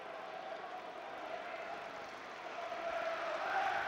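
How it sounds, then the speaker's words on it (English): Rotherham football supporters in a stadium during a 2003/04 League Cup match against Arsenal produce a steady, distant crowd roar and chant, swelling slightly louder toward the end. "it's the Rotherham supporters you can hear"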